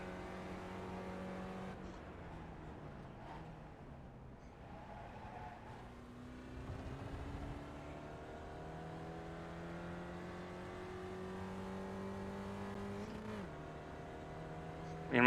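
A race car in the iRacing sim is short-shifted to limit wheelspin, its engine note climbing in pitch through the gears and dropping at each upshift, with other cars and faint talk underneath.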